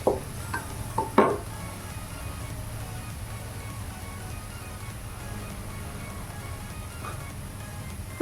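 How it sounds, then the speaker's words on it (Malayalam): Sliced onion sautéing in a pan while cooking soya rice, a soft steady sizzle running throughout, with a few sharp clinks of a spoon against the pan near the start and one at the very end. "സവാള ഇവിടെ നല്ലോണം വഴണ്ട് വന്നിട്ടുണ്ട് കേട്ടോ."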